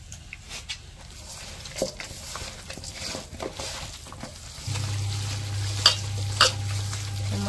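Chicken pieces being hand-mixed with ground spices, salt, ginger-garlic paste and mustard oil, producing soft wet squelching and scraping at close range, followed by a steady low hum in the second half, with no speech.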